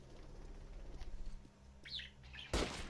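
Birds chirp in short bright bursts near the middle of this Metro Last Light game scene, over a low droning background, followed by a sudden loud noisy burst at the end.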